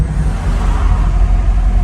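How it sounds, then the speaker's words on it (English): Steady road traffic from a busy main road right beside a hotel, a loud, close, continuous low rumble and whoosh of passing cars with no break and no voices. "apologies for the road noise. There is a main road right there with our hotel today"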